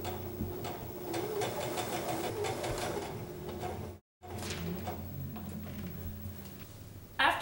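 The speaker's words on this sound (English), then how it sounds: "you're going to stitch 2 rows, one right along close to the edge, and then another one 1/4 of an inch up from that" A sewing machine runs steadily, stitching the casing of a fabric eco tote bag, with a rapid mechanical chatter. It stops briefly partway through, then resumes, close and moderately loud.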